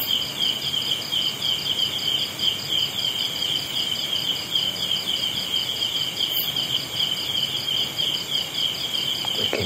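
Crickets chirp in a steady, pulsing high trill that continues without a break, with faint background ambience and no voices.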